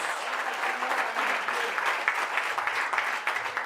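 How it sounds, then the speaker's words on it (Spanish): Dense, steady applause from a church congregation during a worship service, filling the whole stretch at an even, moderately loud level with no pause and no talk. "Fuerte ese aplauso a Él"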